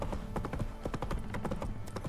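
Horse hooves clip-clop at a steady trot in The Witcher 3, a quick even run of hard knocks at close range, with no talk over them.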